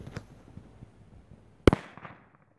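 A Chinese firecracker goes off with a single sharp, loud bang near the middle, followed by a brief scatter of crackles and echoes; small faint pops and rustles come before it, and there is no talk.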